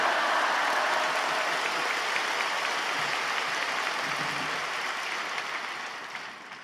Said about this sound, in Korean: 이제 목사님 나오실 때 할렐루야로 박수로 맞이하겠습니다.